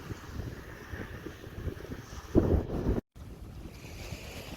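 The Barguzin wind roars across open, shelterless shore at Lake Baikal during a kayak trip, a steady blustery rush with mic buffeting that swells into a stronger gust before a brief dropout, then carries on.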